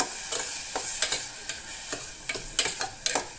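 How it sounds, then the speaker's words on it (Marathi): Onions stirred in a pan with a faint sizzle underneath, a spoon scraping in irregular strokes, close but soft, no talk. "हे बरें कांदो मातसो मोव पडसर मिक्स करून घेया."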